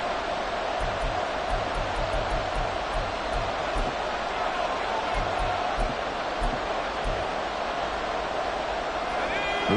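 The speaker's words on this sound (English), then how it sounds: "This crowd doing all they can." A football stadium crowd roars in a steady, dense wash of cheering during a late goal-line stand, loud and continuous throughout, with a commentator's voice over the top.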